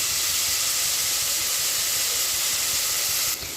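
Onions and green chillies sauté in hot oil, giving a steady, loud, continuous sizzle and hiss close up, with no talking.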